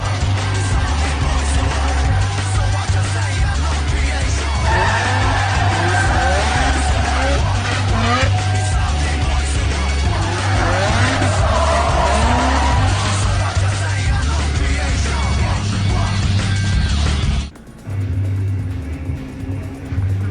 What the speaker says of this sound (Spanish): esto es en la escena que está en el RX-7 Veilside y ven un carro parado y él viene a hacer un drift alrededor de ese